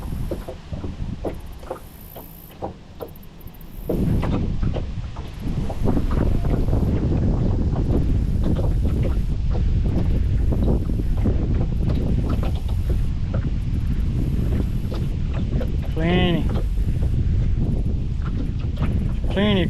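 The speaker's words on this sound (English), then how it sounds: "Now the wind done changed directions on me." Strong wind buffets the microphone on a boat out fishing for crappie in muddy summer water, a heavy roaring rumble that gusts and steadies, with someone talking over it and a brief reel-like whir late on.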